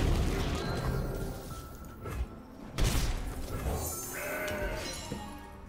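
Goat bleating from a Mountain Goats card in a digital card game, a short bleat over busy game music and effects with a thump partway through.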